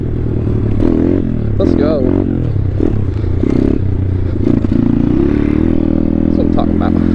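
A pit bike rides along while the rider attempts to scrape it, with a steady engine drone, intermittent clattering and scraping contacts, and a voice speaking over it.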